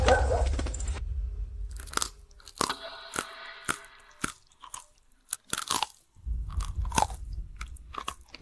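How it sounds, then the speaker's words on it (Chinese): Someone bites down on and eats a bullet in a dramatic scene, giving a run of sharp, close crunches and chewing snaps in irregular bursts, with a low rumbling bed at the start and end and no speech. "他把子弹给吃了"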